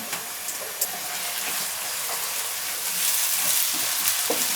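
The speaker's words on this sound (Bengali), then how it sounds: "আদা রসুনের কাঁচা গন্ধটা চলে যাওয়া পর্যন্ত এগুলোকে একটু ভেজে নিলাম" Sliced onions with ginger paste and garlic paste fry in hot oil for a dim alu dish, giving a continuous close, hissing sizzle with occasional sharper pops and spatters.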